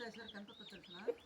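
A rooster on a rural farm lets out a short, nearby crowing call lasting about a second, with faint background voices.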